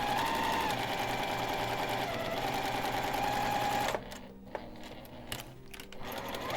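A sewing machine stitches a fabric coaster, its motor humming steadily and loudly for several seconds before stopping, followed by quieter clicks and handling noises.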